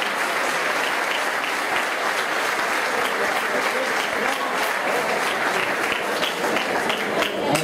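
Sustained applause for the waiters at a birthday party, steady dense clapping that carries on for the whole stretch with no talk over it.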